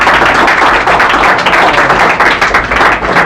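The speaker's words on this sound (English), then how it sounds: "Have a big clap for him." A school award ceremony for a speech competition fills with steady, loud audience clapping, many hands applauding together in a continuous dense patter close by.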